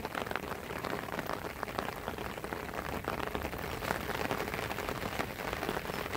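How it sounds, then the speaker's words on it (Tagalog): Heavy rain pours steadily onto flooded rice fields, a dense, loud, unbroken hiss of drops with no voices. "Ganyan katindi yung ulan dito."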